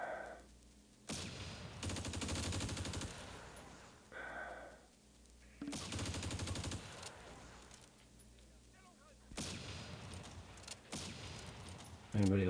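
Sustained bursts of automatic gunfire from the Close Combat World War II strategy game, Crete campaign with German forces, rattling in several long volleys separated by brief quieter gaps.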